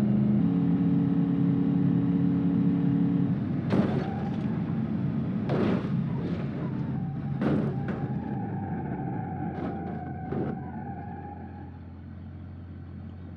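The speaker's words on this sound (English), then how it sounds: "that's our car crash" Real-time replay of a car crash in the BeamNG.drive video game: a steady engine drone is broken by several sharp impact bangs over a few seconds, then thin squealing tones as the wreck slides to a stop. No voices.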